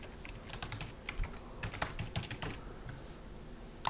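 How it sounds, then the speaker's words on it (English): Fingers typing an email address on a computer keyboard, a quiet, close run of quick irregular key clicks with short pauses between bursts. "Type in our email address for Google"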